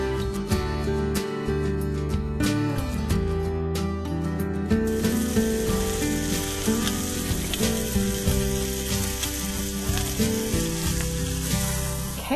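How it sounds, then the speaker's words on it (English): A roast sizzles loudly while browning in a frying pan, a constant dense crackle of searing with occasional spatters, close and steady. "we're going to brown the roast in the frying pan"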